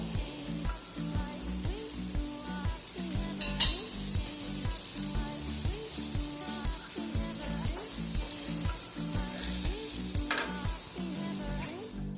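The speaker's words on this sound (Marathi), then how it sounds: "ही सुद्धा आपण आता अगदी मीडियम गॅसवरच तळून घेऊ" Prawns fry in oil on a tawa over a medium gas flame for a spicy kolambi tawa fry, with a continuous sizzle and rhythmic, repeated knocks and scrapes of a spatula close up.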